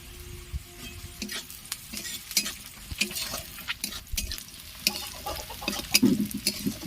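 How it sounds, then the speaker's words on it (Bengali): Onions and green chillies fry in a pan, giving a low sizzle beneath frequent scraping and tapping as a spatula stirs them, close and irregular. "এবারে পেঁয়াজগুলো হালকা করে ভেজে নেব পেঁয়াজগুলো হালকা লাল হয়ে গেছে এর মধ্যে আমি দুটো কাঁচা লঙ্কা দিয়ে দিলাম"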